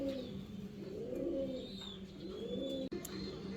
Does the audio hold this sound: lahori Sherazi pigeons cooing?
yes